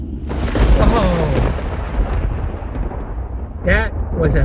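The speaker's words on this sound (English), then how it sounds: "that was a big thunder right there" A big thunderclap booms and rumbles loud and nearby, rolling over a few seconds, while a person talks over it.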